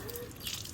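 Water runs from a tap at a well beside a mosque in Bangui, Central African Republic, a steady splashing trickle with dripping, close by and with no talking.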